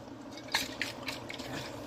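Apple cider vinegar splashes in a few quick faint pours onto cooking greens, soft liquid spatters over quiet background, no talk.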